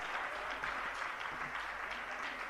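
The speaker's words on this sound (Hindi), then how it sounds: "पूरा देश भी आपके साथ जोरदार तालियां बजाएगा इस परिवार के लिए" An audience at a religious gathering applauds steadily, a dense wash of clapping that holds at an even level throughout.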